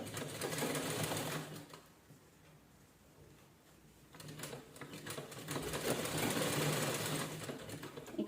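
Sewing machine stitching folded cloth bag fabric, two bursts of rapid mechanical whirring separated by a quiet pause of a couple of seconds.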